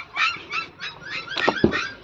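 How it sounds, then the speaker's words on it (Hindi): Newborn puppies give high, thin squeaks and whimpers in a string of short bursts, close by and fairly faint, heard near a parked Mahindra Scorpio N. "यहाँ पर कुत्तों ने बच्चा दे के रखा है, वो बच्चा बहुत ही साउंड कर रहे हैं।"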